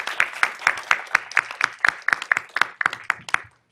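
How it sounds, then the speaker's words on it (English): An audience at a lung cancer prevention and treatment forum gives a short round of applause. Sparse, fairly close individual claps beat in a quick, uneven rhythm before stopping abruptly. "Let's give Yale and Smilow a round of applause with our team."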